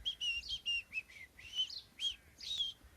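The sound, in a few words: voice imitating blackbird call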